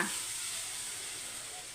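Steady, even sizzle of spices frying in tempering oil for rasam, a continuous bright crackle with no talking, close up and fairly quiet.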